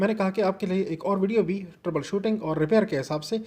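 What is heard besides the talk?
None of the usual background noises is heard.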